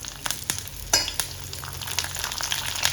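Curry leaves and shallots dropped into hot oil with popped mustard seeds for a Chettinad kothavarangai pachadi, a loud crackling sizzle with sharp pops and stirring clatters that swells again toward the end.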